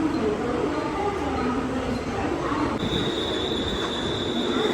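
A suburban train pulls into a Mumbai station, its wheels squealing in a long high steady whine over a broad rumbling roar, close and continuous, with a person talking underneath.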